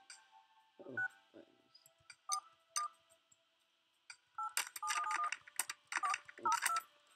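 Telephone keypad tones from a phone in the video game Surgeon Simulator, played as several separate beeps and then quick bursts of dialing tones, clear and close, with no voice over them.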